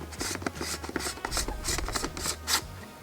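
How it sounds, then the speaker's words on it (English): A 77mm 2–5 stop ND filter is screwed onto a camera lens, giving a run of close, quick scraping thread rubs in an uneven rhythm with no talk. "So let's go ahead and put it on the camera. Just screws right on in."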